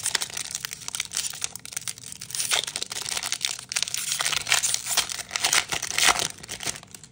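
Crinkly foil wrapper of a Pokemon Crown Zenith booster pack torn and crumpled open by hand, a dense run of crackling and tearing bursts up close, steady throughout, with no speech.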